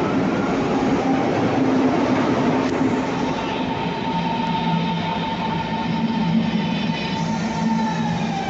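A German ICE high-speed train rumbles past steadily, with a dense roar of wheels and rushing air and a faint whine running throughout.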